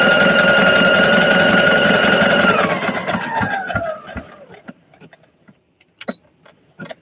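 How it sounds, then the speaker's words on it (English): A sewing machine runs back stitching, a close, loud whirring that winds down in pitch and stops, followed by scattered clicks and handling taps. "And then just do a little back stitching."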